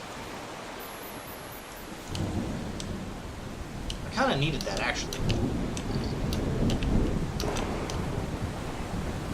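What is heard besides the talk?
thunderstorm with rain in video game The Solus Project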